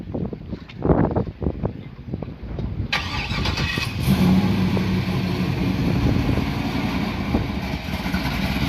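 A Chevy LSX-powered car at an outdoor car meet cranks and fires up, then settles into a loud, close, steady rumbling idle through its exhaust pipes, with light crowd noise around it.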